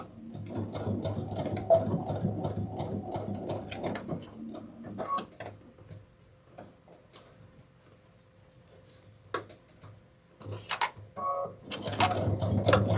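A home sewing machine stitches a 1/4 inch seam on a backpack, starting at the center bottom, in bursts of rapid rhythmic whirring with pauses and small ticks between runs, loudest at the start and end.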